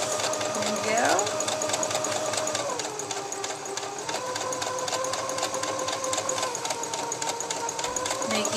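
Home sewing machine stitching a dress lining to the bodice, a steady rapid needle chatter that starts quickly and keeps running evenly throughout, close and moderately loud.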